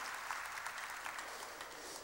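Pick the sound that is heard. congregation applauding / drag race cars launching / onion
congregation applauding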